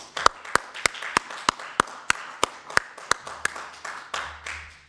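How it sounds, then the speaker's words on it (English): Councillors clap together in a small committee room meeting, a sparse, steady round of distinct, evenly spaced handclaps with no talk over them. "can I ask councillors if we could perhaps have a bit of an applause, please, for what's going on in the Ukraine at the moment"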